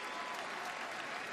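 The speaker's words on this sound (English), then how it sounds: "They were all applauding." College football crowd and players applauding at a Louisville versus Wake Forest game, a continuous, even patter of clapping heard from a distance, soft and uniform throughout.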